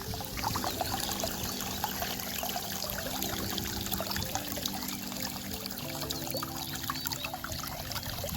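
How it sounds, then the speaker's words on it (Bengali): A homemade mini water pump runs steadily, pushing water out in a continuous splashing, trickling stream, accompanied by a low motor whine that shifts pitch slightly, loud and close without pause. "এটা হলো সিম্পল জল উঠছে।"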